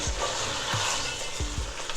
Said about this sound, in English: Saute and mix well.